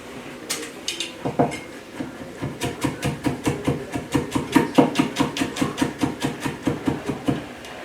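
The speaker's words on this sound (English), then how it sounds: "We're gonna coarsely chop this fresh garlic." A knife coarsely chops fresh garlic on a board, a quick steady run of sharp knocks after a few scattered taps, close and clear with no talk.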